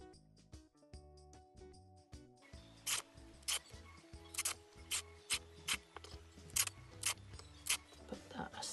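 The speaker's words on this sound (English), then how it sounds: "And I'm going to just tear them." Denim fabric is torn into strips by hand, with a series of sharp ripping bursts coming close and loud, about every half second, after a quieter start.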